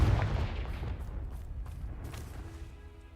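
A Confringo spell blast in Hogwarts Legacy, a strong boom at the start that decays into a crumbling, rumbling rock collapse fading over a few seconds.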